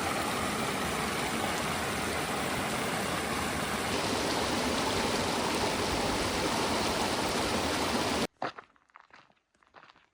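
A stream flows beside a summer campsite as a dense, continuous wash of water close by for several seconds, then cuts off abruptly to a few faint scattered knocks and rustles.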